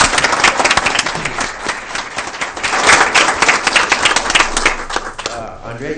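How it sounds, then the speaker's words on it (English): Audience at a school board meeting giving a round of applause, a loud, dense burst of clapping with crowd murmur that continues for several seconds before tapering near the end. "I think we should give Andrea another round of applause."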